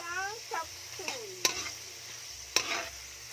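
Garlic browns in a pan for chop suey, with soft sizzling broken by sharp clanks of a utensil against the pan and scraping stirs, close and fairly quiet.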